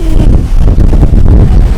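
Loud, low buffeting wind by the sea in Taipei rumbles across the microphone in steady gusts, with no voices.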